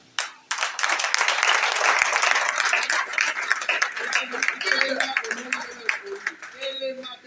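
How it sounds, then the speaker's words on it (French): Audience applause at a political event where a presidential candidacy is filed, with loud, sustained clapping and crowd noise that starts abruptly and runs throughout, while voices and shouts rise over it toward the end. "Applaudissez pour ces messieurs."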